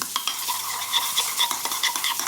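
A utensil stirs cream and Dijon mustard together in a bowl, giving quick repeated wet scraping strokes, close and steady.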